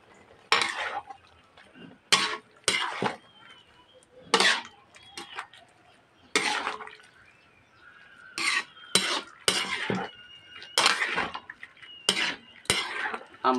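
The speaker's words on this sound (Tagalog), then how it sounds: "At haluin." A spoon stirs and scrapes through a home-cooked meat dish in a metal cooking pot, with about a dozen short, sharp clanks and scrapes at uneven intervals against a quiet background.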